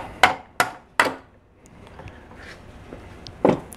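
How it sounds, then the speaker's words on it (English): Plastic hammer tapping a Lambretta scooter crankshaft: three sharp, evenly spaced knocks, then a pause and a fourth knock, close and fairly loud with no talk. "I'm just gonna tap on the crank on this side, and then we'll feed it through on this side."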